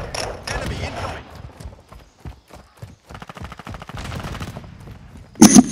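Call of Duty: Modern Warfare II gameplay with bursts of automatic gunfire and scattered shots, voices talking over the action, and a sharp loud blast near the end.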